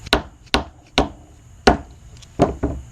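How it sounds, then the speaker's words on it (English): A bolt set in a 1/2 inch drive socket is hammered onto a new Honda valve cover grommet on a wooden surface, giving six sharp, close knocks at an uneven pace with no talk. "we're going to take this bolt, thread it through like that. I'm going to set it inside the 1/2 inch drive section of that socket. And we're just going to beat it right onto that new grommet"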